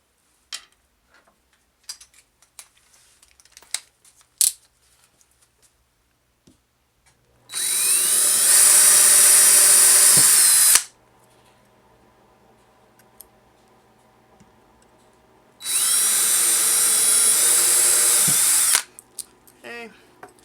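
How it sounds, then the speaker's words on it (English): Two loud bursts of power drilling, each lasting about three seconds, separated by quiet pauses with faint clicks and handling noises. "I'm just going to drill this out a little bit"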